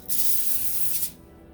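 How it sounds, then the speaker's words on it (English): A single steady burst of cooking spray onto a foil-lined baking sheet hisses for about a second, close and bright, then cuts off into quiet room tone. "I like to spray it, but you don't have to spray it."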